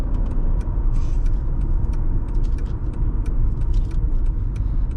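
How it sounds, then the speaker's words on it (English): Turn signal of a 2007 Mercedes E320 BlueTec diesel sedan clicking in a steady, fairly loud rhythm over low cabin engine and road rumble, with no talking. "The blinky is also nice and loud and deep."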